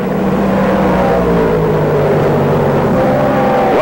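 Racing cars, a Camaro among Porsches, roar along a 1968 NASCAR Grand Touring track at Rockingham or Atlanta, a loud, continuous engine drone with shifting pitch as the cars run through the turns, with no talk over it.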